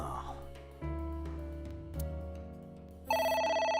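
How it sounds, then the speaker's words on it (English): A telephone rings in the video game AI: The Somnium Files, a sustained ring that rises sharply near the end, over steady in-game music with no talk. "Phone call again."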